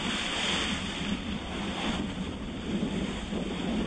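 An Interlake sailboat reaching fast through wind and waves, with steady rushing water and heavy wind buffeting the microphone, loud and constant throughout with no speech.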